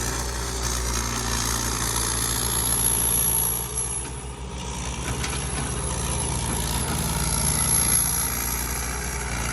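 A turbocharged excavator engine runs steadily nearby, a dense continuous diesel roar with a brief dip midway before settling back to the same level; no talking.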